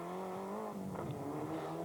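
A Mitsubishi four-wheel-drive Group N rally car engine revs steadily at high pitch, a sustained loud drone with slight rises and falls in tone throughout, no voices over it.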